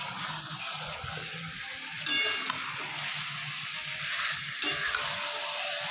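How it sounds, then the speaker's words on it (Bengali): Potato chunks stirred through sizzling masala in a pan for mutton curry: a steady, close frying hiss with two sharper scraping stirs of a spoon and no voices. "আলুগুলো দিয়ে একটু মশলাটা উলটপালট করে দেবো।"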